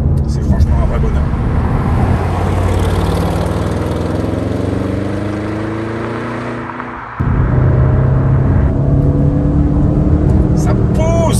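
An Audi RS7 C8 engine rises in pitch through accelerations, drops away as the car slows under braking, then surges loudly again, with road rumble throughout and a voice talking over it.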